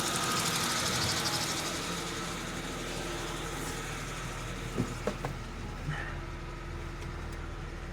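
A Suzuki Samurai engine idles steadily at slightly high revs during an ignition timing check, a continuous low mechanical hum with a few faint clicks and knocks near the end.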